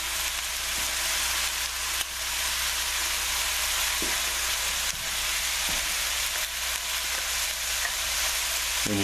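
Meat sautéing in a pan with herbs and spices for braised beef Lyonnaise, a steady loud hiss of sizzling frying that runs unbroken for about nine seconds, with a few faint stirring knocks and no talk.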